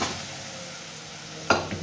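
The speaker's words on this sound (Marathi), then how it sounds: "ते वाटण तेलामध्ये परतण्यासाठी टाकून दिलं" Red chili and garlic paste sizzles steadily in hot oil, a close, even frying hiss with a single sharp utensil clink near the end.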